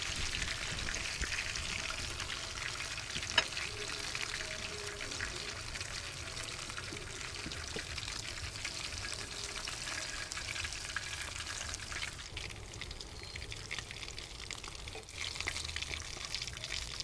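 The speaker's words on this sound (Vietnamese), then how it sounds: "Vì cá muối mình phái chiên cho nó vàng vàng á, mình ăn nó mới ngon." Salted fish frying in a pan to a golden brown, giving a steady, dense sizzle and crackle throughout, with a few faint clinks and stirring sounds and no talking.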